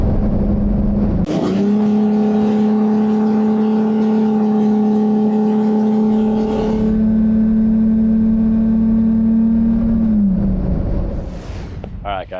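Car fitted with a K&N NextGen cold air intake cruising around 65 mph on a freeway, a steady engine hum and intake whir held for several seconds before easing off, with road noise throughout.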